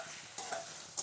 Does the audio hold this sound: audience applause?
no